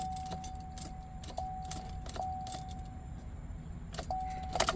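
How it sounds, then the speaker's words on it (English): A 2015 Suburban with a new battery: keys jangle and click repeatedly in the ignition while a faint steady electronic tone chimes, but the engine never cranks or starts. "See, you turn the ignition and nothing."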